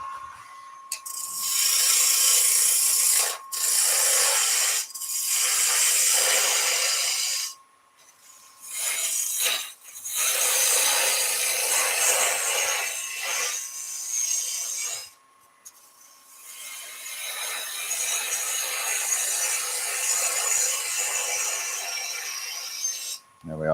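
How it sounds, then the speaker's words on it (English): A 1/4 inch (6 mm) bowl gouge cuts wood on a spinning lathe, giving loud rasping, scraping passes broken by several short pauses as the tool lifts off and goes back into the work. "There we are, that'll do us with the bowl gouge"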